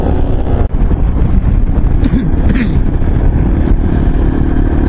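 A group of Yezdi Adventure motorcycles rides along a foggy road, a loud steady engine drone with heavy wind buffeting the microphone and a brief clatter, voices faintly underneath.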